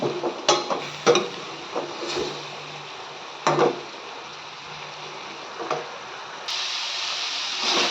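Cabbage and capsicum fry stirred in a pan, with scattered scrapes and clanks of a spoon against metal, then a sustained sizzle rising near the end.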